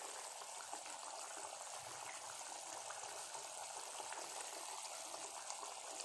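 Egg masala bubbling at a rolling boil in a pan, a faint, even, continuous simmering hiss with no voices.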